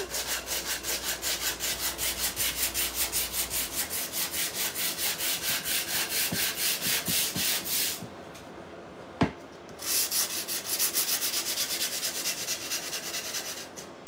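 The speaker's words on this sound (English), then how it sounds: "Let me give the sign a little bit of sanding." Rhythmic back-and-forth sanding scrapes on a painted wooden sign, close and continuous, with a brief pause and a sharp knock before the strokes resume.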